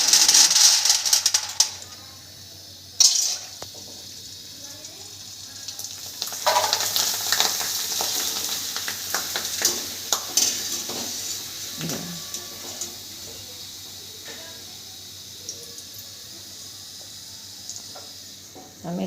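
Bateka bhungla, potato pipe snacks, frying in hot oil with a steady, loud sizzle and crackle. Sharper bursts come as more pieces drop in, and no one speaks.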